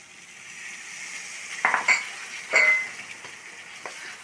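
Boti (goat tripe), precooked with turmeric and salt, being stirred into curry in a pot: steady faint sizzle with a couple of brief scraping bursts from the spoon, no talking.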